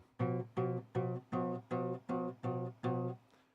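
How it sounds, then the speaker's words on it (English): A tritone interval played as eight evenly spaced sustained notes, each a rich harmonic tone with a clear gap between, alternating or repeating at a steady pace, close and clean with no talking. "And that is called the tritone."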